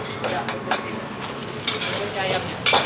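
Mustard greens stir-fried in a pan, sizzling with scraping stir strokes and clanks at a busy food stall, short and close.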